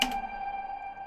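A single short synthetic blip sounds, then its tones hang and ring out in a long, washy reverb tail, faint and hollow like sonar, in a spooky synthwave arrangement.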